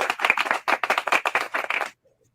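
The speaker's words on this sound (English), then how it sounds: "Applause for that." A small group claps in a quick, uneven burst for about two seconds, close and distinct individual claps, then stops into silence.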